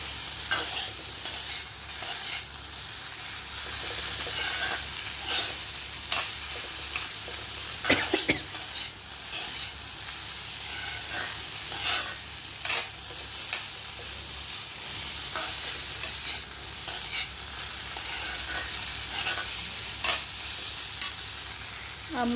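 A pan of vegetables frying on a home stove sizzles steadily while a spoon stirs and scrapes against it in repeated, irregular strokes, with no voices.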